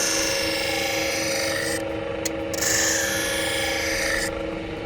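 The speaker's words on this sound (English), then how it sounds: "So that was just the inside, the sharp edge being sharpened." A hoof knife's inner edge is sharpened in steady, continuous rasping strokes, a harsh close-up scraping that runs throughout with a few brief pauses and changes in pressure.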